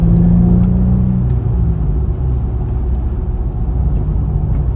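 Stage 2 Audi B5 S4 with stock K03 turbo pulling in fourth gear at quarter throttle on an interstate, a loud close cabin drone of engine and road rumble, a rising tone easing off after a second.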